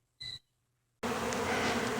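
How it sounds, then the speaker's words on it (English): Honey bees buzz around an open beehive, a brief close buzz of one bee passing, a moment of quiet, then a dense, loud swarm drone from many bees in the air. "So you can see there are quite a few bees in the air."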